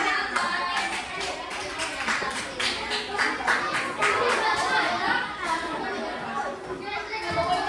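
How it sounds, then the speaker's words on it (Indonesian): Classroom children clap for a student group named Arka, a quick patter of many small hands mixed with lively children's chatter and voices throughout. "tepuk tangan buat kelompok Arka"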